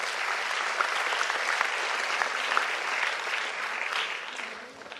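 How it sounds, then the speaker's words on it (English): An audience at a Times of India student event claps to welcome a female senior assistant editor to the stage, a sustained even round of applause with a few sharper individual claps standing out. "Give her a big round of applause and welcome her to stage"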